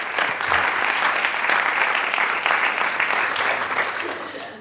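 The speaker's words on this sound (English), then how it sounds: "Please have an applause for all these nice applicants." A conference audience applauds in a steady, full round of clapping that lasts several seconds and fades slightly toward the end.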